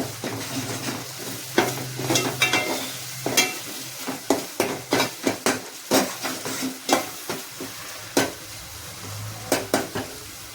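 A home-style chicken curry base sautéing in oil: continuous close sizzling under a rapid series of spoon strikes and scrapes against the pot, growing into a busy rhythmic stirring, with no voices.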